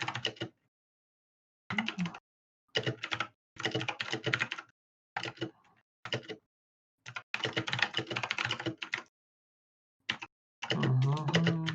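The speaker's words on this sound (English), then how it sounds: "I hope the sound of my typing the notes down isn't too terribly irritating." Typing on a computer keyboard during a tabletop role-playing game session, with bursts of rapid clattering keystrokes separated by short pauses, close and fairly quiet.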